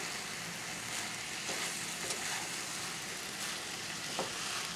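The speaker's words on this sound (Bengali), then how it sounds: "এবার সব কিছু দিয়ে ভালো করে মিশিয়ে নেব।" Fried rice stir-fried in a pan sizzles steadily throughout, with occasional scrapes and clinks of a spatula stirring it near and clear.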